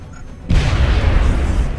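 A frag grenade goes off in XCOM: Enemy Unknown, a sudden loud, deep blast after a brief quiet, followed by a sustained rumbling roar of debris, with no talking.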